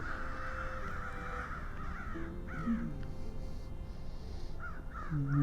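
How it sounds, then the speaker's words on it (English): Several crows caw in short bursts from a neighboring tree, some harsh calls overlapping, at moderate distance over a quiet outdoor background. "We got a murder of crows over here, the next door neighbor's tree."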